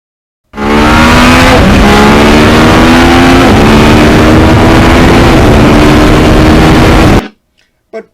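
A 1991 Yamaha FZR 1000 motorcycle engine roars loudly and up close with abrupt throttle, its pitch climbing and dipping through repeated surges for several seconds before cutting off sharply.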